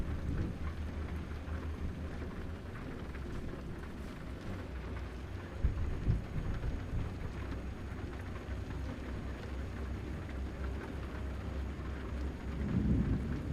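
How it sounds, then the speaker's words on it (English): Steady rain with rolling thunder inside the truck-driving game American Truck Simulator, a dense continuous wash of rainfall under low rumbles that swell briefly around the middle and again near the end, with no talking. "It had just started raining."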